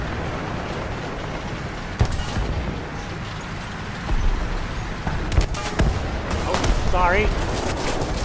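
Anti-aircraft gunfire in War Thunder tank combat, a steady stream of rapid shots and thuds under game noise, with sharp bursts near two and five seconds and someone briefly talking.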